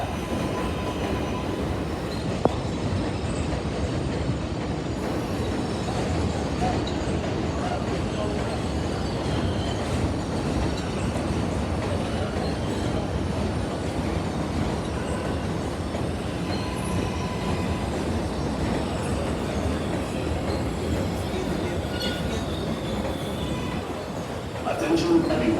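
An NYC subway R188 train on the IRT 7 line rumbles steadily through 74th Street–Broadway station, a continuous loud roar of wheels and cars throughout, with voices talking faintly underneath.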